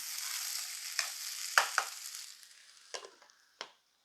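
Sprouted chickpeas sizzle steadily in a hot pan while a spoon scrapes and stirs them in a few distinct strokes, the frying hiss fading toward the end.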